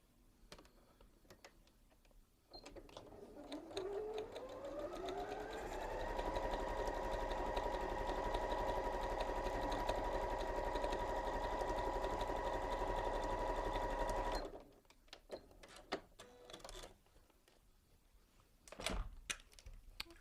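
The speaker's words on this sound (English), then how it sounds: "You're going to fold it over, and you're going to sew that one together." A sewing machine stitches quilt block pieces together. It spins up and then holds a steady whirring run for about twelve seconds, close, with quiet handling sounds of fabric before and after.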